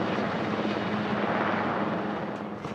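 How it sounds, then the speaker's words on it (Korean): Marine One, the US presidential helicopter, departing with its steady rotor and engine roar, loud and continuous throughout, fading slightly near the end. "대통령 전용 헬기 마린 원을 타고"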